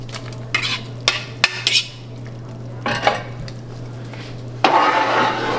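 Lump crab meat tipped into a large pot of Louisiana seafood gumbo, with a few sharp clinks and scrapes of a spoon against the pot, soft stirring, and a steady low hum behind it.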